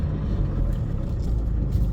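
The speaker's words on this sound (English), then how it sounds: "it's a bloody traffic jam here now" A steady low rumble of road traffic fills the scene as cars sit and creep along in a jam, a continuous engine and tyre drone with no distinct passes or horns.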